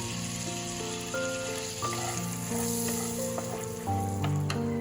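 Two bay leaves and whole garam masala sizzle and crackle steadily in hot oil for Chana Paneer Butter Masala. The frying hiss runs continuously under soft background music.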